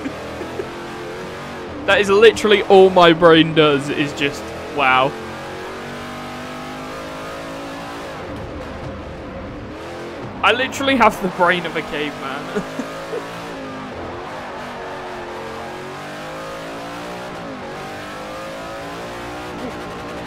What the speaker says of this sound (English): Engine make loud noise.